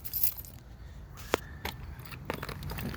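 Keys jangle faintly near a vehicle with a dead battery, with a few soft metallic clinks and rattles scattered among low background noise.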